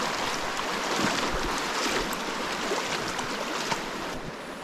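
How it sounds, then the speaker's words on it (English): Creek water rushing at a hiking trail crossing, a steady, dense outdoor wash of flowing water heard close by and unbroken throughout, with no talking. "Alrighty, we're gonna cross the creek here."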